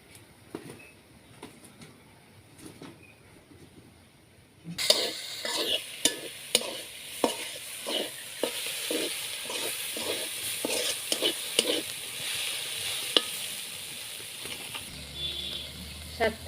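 Vegetables sizzle in a pan with turmeric and salt, quiet at first, then a loud steady frying hiss from about five seconds on, broken by regular scraping stirs of a spatula.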